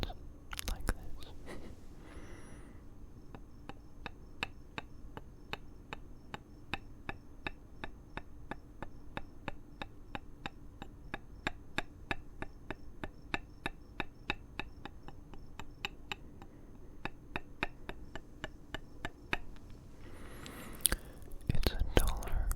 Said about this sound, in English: It's a duller, muted kind of sound, kind of dampened a bit, and it doesn't ring out for quite so long.